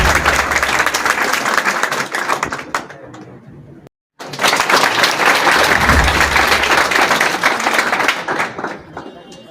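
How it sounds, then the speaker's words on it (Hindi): Vigorous audience clapping for an NCC trainer at a computer class student award ceremony, loud and dense, with a brief silent gap before the applause resumes just as strongly. "ये इनके लिए जोरदार ताली एक बार।"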